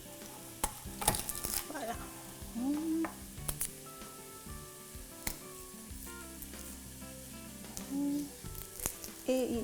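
Three garlic cloves sizzle and fry in a hot pan while being stirred, with steady crackling and scraping spoon strokes throughout, and a voice speaks briefly for a moment.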